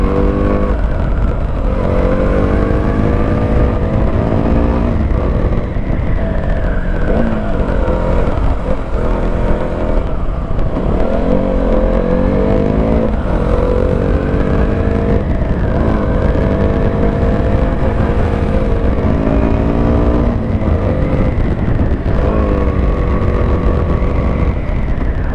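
A KTM Duke motorcycle ridden along a road in Nepal roars loudly and continuously, its engine note rising and falling with repeated shifts and acceleration surges.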